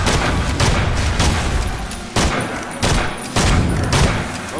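Rapid gunfire in the Evil Dead video game, dense loud bursts of shots blending into a near-continuous barrage with brief gaps, close and harsh, with no talking over it.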